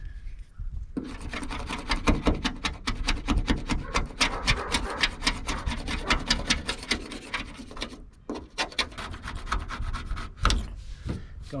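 Paint scraper rasping peeling paint off a Chevy van, close and steady: repeated short strokes in an even rhythm, with brief pauses near the end.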